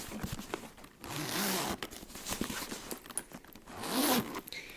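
A zipper on a Dungeons & Dragons kit case being drawn open in several close, rasping pulls, loud and crisp with brief pauses between strokes.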